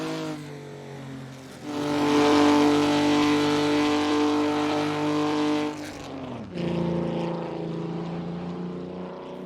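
A Ferrari F50 sports car on old-style tyres roars up through its revs with a loud, sustained engine howl, drops off abruptly as the throttle lifts, then pulls hard again with a strong rising note.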